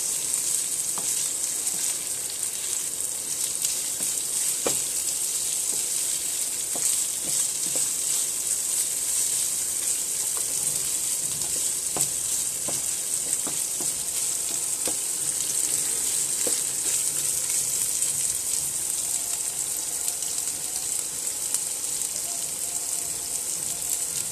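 Boiled chicken breast meat stir-fried in a pan gives a steady, close sizzling hiss throughout, broken by light intermittent clicks of stirring, with no talk.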